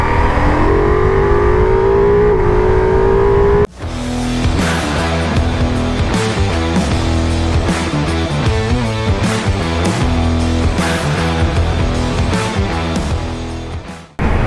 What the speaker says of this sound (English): I'm back out on the Ducati Multistrada V4S.